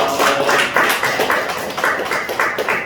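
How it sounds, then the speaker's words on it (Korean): Congregation clapping together during a Sunday service in a church in Gimpo, South Korea, a dense, steady wash of many hands with rhythmic surges, close and filling the room with no talk over it. "오늘 노래 찬양 받으신 하나님께 박수를 영광으로 드리겠습니다"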